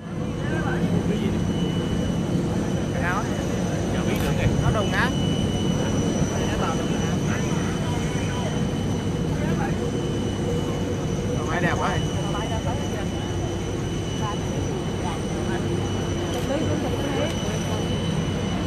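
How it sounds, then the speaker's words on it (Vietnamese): Air Force One turning and taxiing at Da Nang airport, a steady jet engine roar at a moderate distance, heard under continuous commentary and crowd noise. "chiếc Air Force One đang quay đầu để đi vào trong sân bay."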